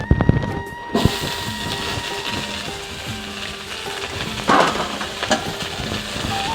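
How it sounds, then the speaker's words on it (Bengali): Vegetables tipped into a hot pan of oil for a vegetarian Bengali kudli chorchori, giving a loud sizzling hiss that settles into steady frying crackle, with a few utensil knocks against the pan. "এখন আমি শাকসবজিগুলো উঠিয়ে দিচ্ছি"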